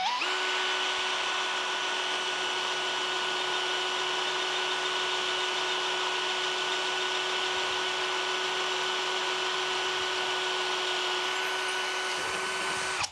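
A power drill with a 5% cobalt bit whines at a constant high pitch for several seconds, boring steadily into stainless steel before stopping abruptly at the end.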